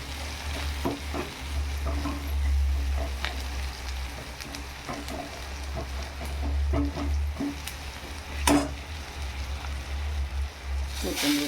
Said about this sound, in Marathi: हे सगळे चांगले परतून घ्यायचे.